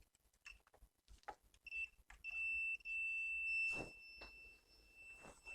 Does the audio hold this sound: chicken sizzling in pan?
no